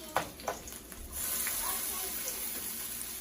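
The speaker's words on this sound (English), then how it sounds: "And just keep the oil, you know, moving around, so that way it can make sure all them edges and stuff get nice and fried up." Salmon patties fry in oil in a pan, a steady close sizzle that rises and holds after a few quiet clicks and knocks at the start.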